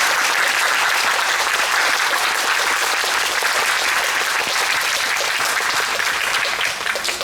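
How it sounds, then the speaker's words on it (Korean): An audience gives sustained, loud applause at a stage curtain call for the Korean musical Gwangyeom Sonata. The steady clapping fills the space for several seconds without a break. "두 분께 큰 박수 부탁드립니다"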